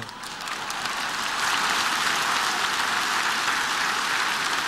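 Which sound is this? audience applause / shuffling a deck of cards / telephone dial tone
audience applause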